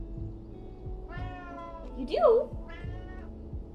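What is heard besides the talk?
cat meowing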